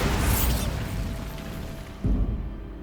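Casting the Bombarda blasting spell in Hogwarts Legacy sets off a loud, rumbling explosion that slowly decays, followed by a second heavy blast thumping in near the end.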